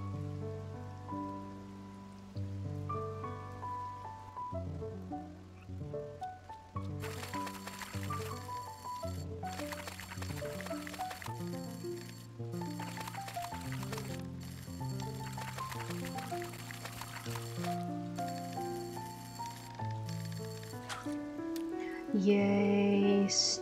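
Rain falls in the farming video game Coral Island, a soft patter mixed under a prominent melodic music track that plays throughout.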